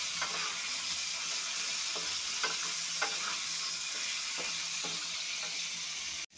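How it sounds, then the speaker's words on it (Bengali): Drumsticks (moringa pods) fry lightly in a pan with a little salt, giving a soft, steady sizzle broken by occasional scraping clicks of stirring. "হালকা করে সাজনাটা ভেজে নেব"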